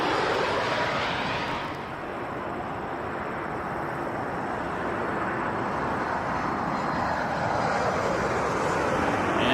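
Airliner at Toronto Pearson Airport beginning its takeoff roll, a broad, rushing jet roar heard from a distance that dips briefly and then slowly builds, with no talk.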